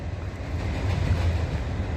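A CSX freight train rolls past as a loud, steady low rumble with a broad roar of wheels and wind, continuous for the whole two seconds with no talking.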